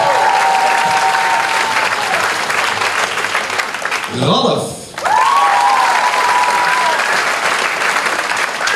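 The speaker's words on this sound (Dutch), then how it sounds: "Applaus." An audience applauds members of a kids' band combo as each is introduced, steady loud clapping with a brief dip in the middle, while a voice speaks over it and tonal whistles or feedback sound in the background.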